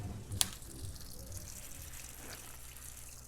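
Tap water runs steadily and faintly over raw chicken in a home kitchen, a soft continuous gush with one sharp click near the start.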